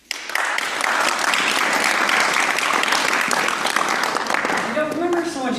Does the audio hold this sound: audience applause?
yes